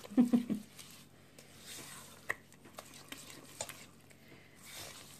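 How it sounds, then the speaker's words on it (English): No-bake cookie mixture with melted peanut butter stirred quickly in a pot, soft scraping strokes and a few clinks at the start, then quieter stirring with faint low voices. "you want to make sure you're stirring it real fast"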